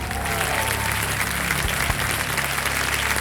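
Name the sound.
studio audience applause on a game show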